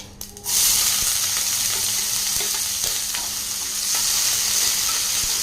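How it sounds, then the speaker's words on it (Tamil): Chopped onion dropped into hot oil with popped mustard and fennel seeds, a sudden loud burst of sizzling that settles into a steady, close crackling fry with faint stirring taps. "ஒரு பெரிய வெங்காயம் கட் பண்ணி வச்சுருக்கேன் சேர்த்திக்கலாம்"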